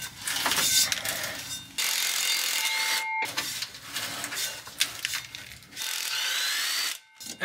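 A ratchet wrench works an 18 millimeter bolt on a BMW X5 drivetrain, several bursts of rapid clicking separated by brief pauses, close and moderately loud.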